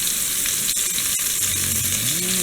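Fish frying in hot oil in a pan, a loud, dense close-up sizzle that holds steady throughout, broken by a couple of sharp crackles or pops.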